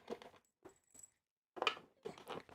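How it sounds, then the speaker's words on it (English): Small metal screws drop during a PC build and scatter onto a hard surface in several separate clattering bursts with brief gaps between them. They sound close and fairly quiet, like coins dropping. "We just dropped all the screws."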